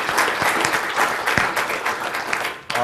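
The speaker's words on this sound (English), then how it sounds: "Thank you for the applause." An audience gives a brief, loud burst of applause, dense clapping close by that fades out near the end.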